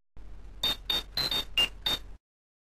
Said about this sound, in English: this guy has ridiculous ringtones